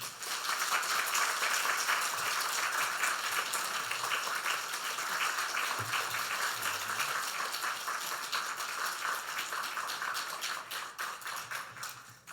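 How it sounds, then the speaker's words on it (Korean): A church congregation gives warm, sustained applause as the pastor comes forward, many hands clapping steadily for over ten seconds before tapering off. "우리 나오실 때 어제처럼 뜨거운 박수로 우리 목사님 모시겠습니다"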